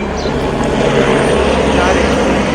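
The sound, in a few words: helicopter flying overhead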